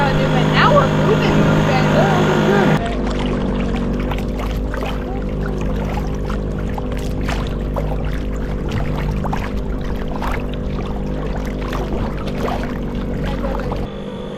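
An inflatable boat cruises under a classic outboard motor, its engine a steady droning hum with water rushing beneath, louder at first then settling into an even run while voices talk over it.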